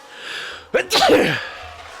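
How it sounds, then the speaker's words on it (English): A single loud, close sneeze bursts out sharply with a quick intake and explosive release, alone against a quiet room background. "I'm going to sneeze again."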